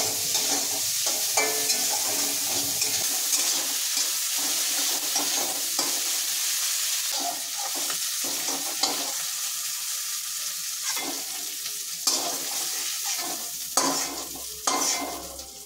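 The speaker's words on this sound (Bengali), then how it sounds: "মাছটা খুব কড়াকড়ি ভাজবো না, মানে হালকা ভাজবো মাছটা" Fish lightly frying in a pan, a steady close sizzle running throughout with scraping stirring strokes and clinks of a utensil breaking through, growing a little busier toward the end.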